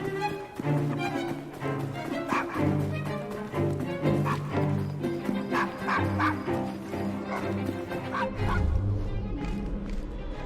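A dog barks repeatedly in the Assassin's Creed Syndicate video game, loud and close, set against a dense, continuous game soundtrack that runs under every bark.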